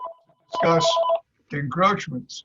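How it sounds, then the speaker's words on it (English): Phone ringing during a Zoom meeting: a faint steady electronic tone that sits under and between stretches of someone talking. "And that's my phone"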